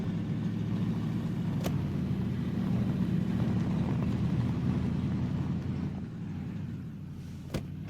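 A vehicle being driven in the video game DayZ, heard as a steady, moderately loud low engine drone that holds throughout, with a couple of sharp clicks near the end.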